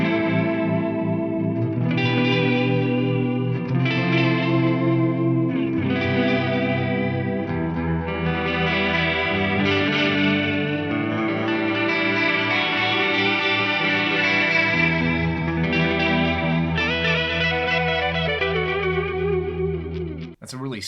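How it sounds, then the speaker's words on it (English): Mooer D7 delay pedal on galaxy mode gives a smooth, modulated delay to sustained electric guitar chords and notes, with shimmering chorus-like echoes washing together, loud and continuous for about twenty seconds before a sudden cut. "That's a really smooth modulated style delay."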